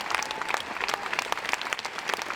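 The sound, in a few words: audience applause after film screening at Cannes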